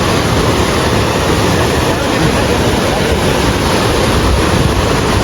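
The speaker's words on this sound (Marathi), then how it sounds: "पाण्याचा प्रवाह बघा किती." Water rushes through a rocky stream channel in a loud, constant roar that fills the whole clip, with wind buffeting the microphone.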